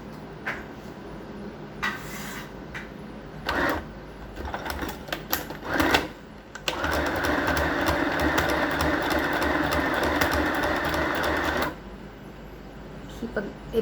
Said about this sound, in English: I will begin now the sewing from waistline to the crotch, the front pants.